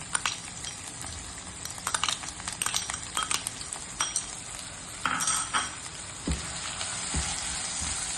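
Soaked masoor lentils sauté in chilli paste for a fenugreek curry, giving a steady sizzle with intermittent clinks and scrapes of a spoon against the pan and no talking.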